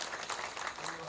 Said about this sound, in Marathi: टाळ्या वाजवा माझ्या सगळ्या.